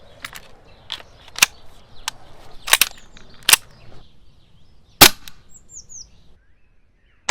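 Six sharp test shots of caliber .43 rubber steel ammunition crack out one at a time at irregular intervals, loud and close, with faint bird chirps in the background.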